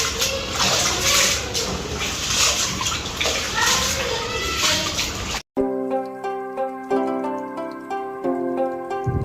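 Wheat grains are swished and sloshed by hand in water for about five seconds, close and busy, before the sound cuts to music.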